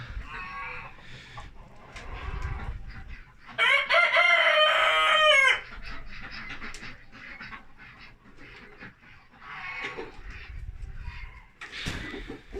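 Farmyard poultry at a morning release, hens clucking intermittently close by and a rooster letting out one loud crow in the middle, with ducks and other fowl murmuring around.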